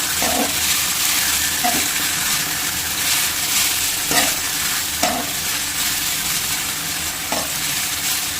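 Bitter gourd sautés in hot oil with a continuous close sizzle, broken by repeated scraping stirs of a spatula against the pan.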